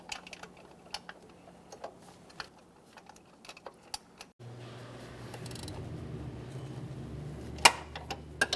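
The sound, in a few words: tightening Kia Forte tensioner mounting bolt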